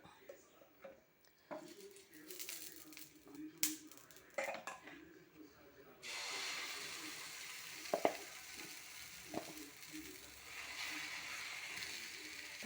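Dosa batter poured onto a hot pan bursts into a steady, fairly loud broadband sizzle that continues for several seconds, following a stretch of quiet talking and scattered kitchen clatter.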